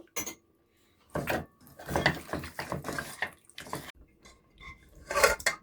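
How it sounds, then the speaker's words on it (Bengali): Fish pieces are rubbed by hand with ginger paste, coriander powder, turmeric and salt in a dish, giving wet squelching and soft clinks of the dish in scattered close bursts between pauses. "এই যে মশলা দিয়ে মাছটা একটু মেখে রেখে দেবো কিছুক্ষণ"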